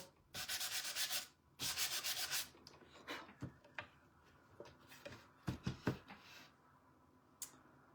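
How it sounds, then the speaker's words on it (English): Sanding corrugated cardboard by hand, two long rough scraping strokes followed by shorter scratchy rubs and ticks, close and isolated with no voices. "You can also sand the front too."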